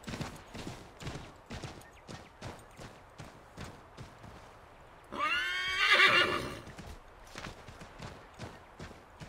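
A horse in the video game Assassin's Creed III lets out a loud, shaky whinny midway through, standing out clearly over steady hoof clops and rustling ground noise.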